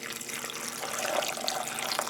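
Water from simmered turnips is poured from a measuring cup into canning jars of turnips and carrots, a close, steady trickling splash with brief gurgles as the jars fill.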